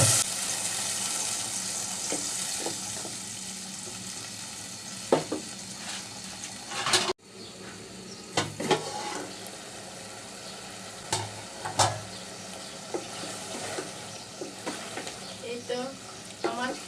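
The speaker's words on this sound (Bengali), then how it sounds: "কাঁঠাল বিচি কষানো হয়ে গেছে" Jackfruit seeds stir-fried with chilli in a pan, sizzling steadily while a utensil scrapes and clatters in sharp bursts, close and moderately loud, with a brief break partway through.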